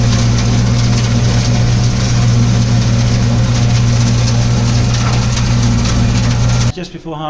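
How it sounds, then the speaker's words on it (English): Tractor topping rough ground at a field boundary during wheat harvest, a loud steady low engine drone with constant mechanical rumble throughout, cutting off abruptly near the end. "So we're just topping a bit of rough ground just to define the field boundary."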